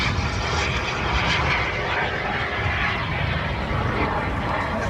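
Cold War jet fighters, a Grumman Panther and MiGs, roar past at an airshow as a loud, steady, broadband engine rush that fills the whole clip with no break.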